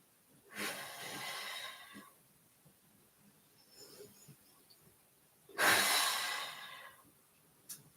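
Two deep, audible breaths during a held yoga lunge in a full-body flow: a long, airy exhale followed by a louder, sighing one, close and otherwise quiet.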